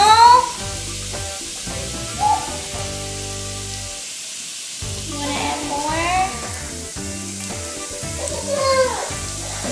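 A toy volcano fizzes and sizzles in a steady bubbling hiss, with a child's high squeals and voices breaking in over it.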